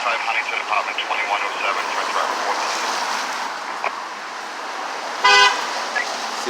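A car drives past on a city street and gives a short, loud horn toot near the end, over steady road noise, with someone talking and a dog barking faintly.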